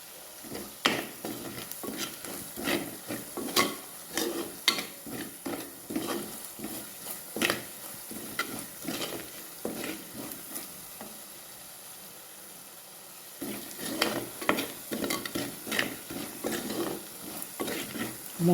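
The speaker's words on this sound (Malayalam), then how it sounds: "അതുവരെ നമുക്കൊന്ന് വഴറ്റി കൊടുക്കാം." Chili powder and masala sautéing in a pan for a Kerala-style fish curry: steady close sizzle broken by repeated scraping stirs, with a brief quieter lull before the stirring picks up again.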